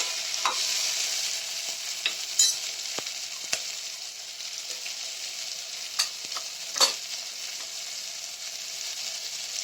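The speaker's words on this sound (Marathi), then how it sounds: "आता याला पण थोडं 1-2 सेकंद आपण परतून घेऊ व्यवस्थित." Chopped cucumber being sautéed in a pot for moong dal khichdi, with a soft steady sizzle and a few sharp spoon scrapes against the metal spread through it.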